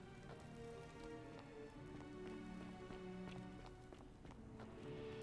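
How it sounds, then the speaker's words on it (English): Steady rain falls through an open roof into a building interior in the video game The Forgotten City, a continuous dense patter of drops at moderate level throughout, with no talking. "there's like a little sunroof rain spot basically where it's like an open thing in the house or building"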